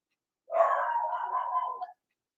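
A single drawn-out dog bark or howl-like yowl, close and fairly loud, lasting under two seconds and standing alone with nothing else around it.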